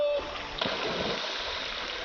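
Someone bathes and splashes in river water near Little Amazon after a kayak trip, a close splash followed by steady flowing and gurgling water.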